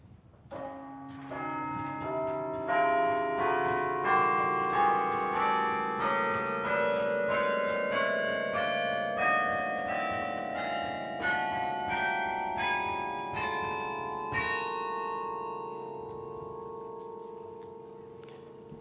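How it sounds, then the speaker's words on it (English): The Cornell Chimes, a 21-bell chime, rings out a steady melody of single struck bells, each tone ringing on and overlapping the next, close and loud for the whole stretch with no voices. "Over the years, the chime grew to its current total of 21 bells."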